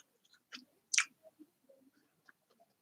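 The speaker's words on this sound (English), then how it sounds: "Sorry, I'm chewing gum" Soft, close chewing of gum, a few scattered wet smacks and squishes in a quiet room with no talking.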